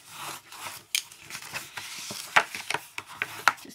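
A blade or stylus scoring and burnishing fold lines on paper or card, a string of short, close scratchy strokes and rubs with uneven rhythm and a few sharper accents, alone and fairly faint.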